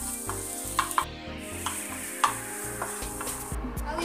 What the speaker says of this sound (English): And we will put now the garlic and onion. So we use butter instead of cooking oil.